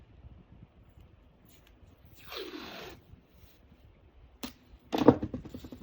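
Painter's tape rips off the roll in a drawn-out tearing peel, followed after a pause by a short tap and a sharper second rip as it is pressed down, close and quiet otherwise.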